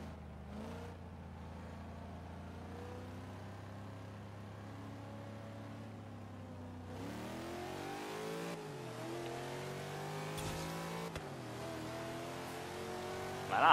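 Corvette Z06 and Ford Falcon XA GT-HO race cars in Forza Horizon 3, a steady engine drone that climbs through revving gear changes, pitch rising in steps after the midpoint with no talk over it.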